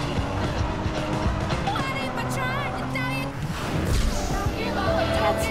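Car spinning out in the Driver San Francisco video game, with tire squeal and skidding over engine noise and game music, steady and loud throughout.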